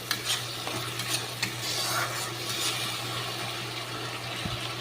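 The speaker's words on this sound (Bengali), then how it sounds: "মশলাটা কষানো হতে থাকুক।" Masala spice paste frying and being stirred in a pan for a fish curry with mankochu, a steady close sizzle with scraping stir strokes throughout, no talking.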